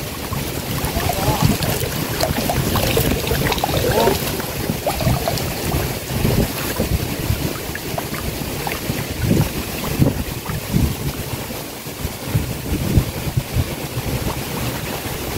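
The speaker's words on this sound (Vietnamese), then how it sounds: "Quá trời gió." Strong wind roars over open water next to a small boat, buffeting the microphone in continuous gusts with lapping water beneath, loud and sustained.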